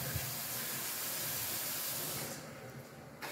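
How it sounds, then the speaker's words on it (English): Water runs from a kitchen sink faucet in a new house, a steady, close hiss that drops off and quiets near the end, with no talk. "Got running water in the sink now."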